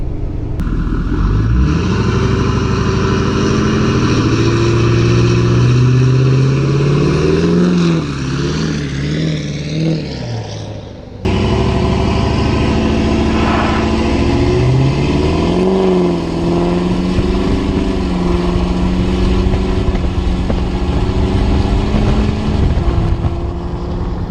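A Ford 6.7 Powerstroke diesel fitted with a non-VGT turbo revs up and down repeatedly, loud and close, its engine note rising and falling in sweeping pulls with a short drop in the middle, no talking over it.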